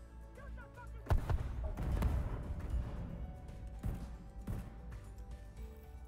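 Cluster grenades go off in The Division 2, a burst of heavy booming explosions with debris rumble, loud and close, followed by a few further blasts and fading echoes amid game ambience.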